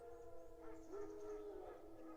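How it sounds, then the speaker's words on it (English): Wild dogs howl in The Witcher 3, a faint, distant, drawn-out wavering howl rising and sliding over a low game-world ambience, with a second softer howl overlapping near the end. "I do, in fact, hear that hell sound. Wild dogs."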